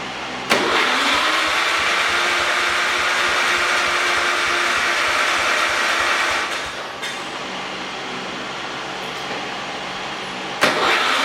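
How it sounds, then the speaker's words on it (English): A 1969 John Deere 140 garden tractor engine cranking on a pallet indoors, a loud continuous starter churn that drops slightly in pitch partway through, then cuts off without the engine catching. "we'll see if it will fire up and drive off of this pallet right here on the floor"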